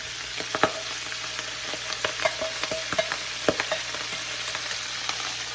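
A-choy lettuce stir-fries in a wok, moderately loud sizzling broken by frequent sharp scrapes and clatters as the leaves are tossed, close by and with no voices.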